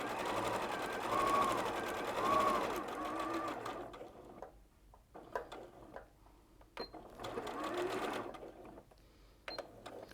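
A sewing machine stitches quilting strips together, running in several steady bursts with short pauses between them, fairly close and moderately loud, while a voice talks faintly underneath.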